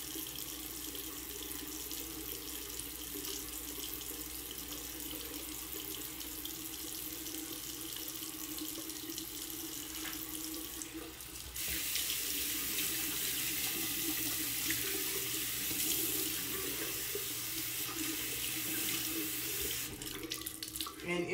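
A tap runs steadily into a sink, close and continuous, during face washing with pine tar soap. Partway through, the flow grows louder and brighter as the water hits the hands or face more directly.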